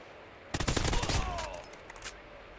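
A quick burst of rapid automatic fire from a Honey Badger rifle in a shooting video game rattles out close and loud, then trails off into a brief echoing tail.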